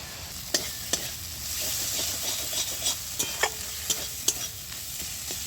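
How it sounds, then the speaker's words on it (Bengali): Mustard, coriander and chilli spice paste stir-fried in oil gives a steady close sizzle, broken by sharp scrapes and taps of a spatula against the pan, with no talking. "সরষা, ধনা আর লঙ্কা বাটা 1 চামচ। ভালো করে মশলাটা কষিয়ে নিতে হবে।"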